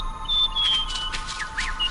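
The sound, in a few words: small bird chirping, cartoon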